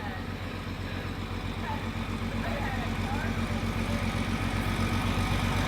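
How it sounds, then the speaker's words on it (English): A truck hauling mulch passes along a major road through wilderness, its low engine drone steady and building slightly louder across the clip, with continuous rumble and no talk over it. "This truck's bringing mulch."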